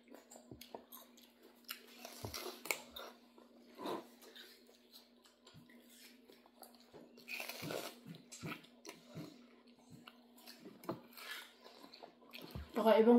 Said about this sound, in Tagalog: Every time you bite, it's crunchy.